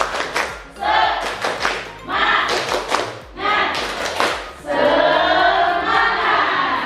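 Students in a classroom do a rhythmic tepuk semangat clapping routine, with bursts of claps mixed into loud group chanting voices through most of the stretch.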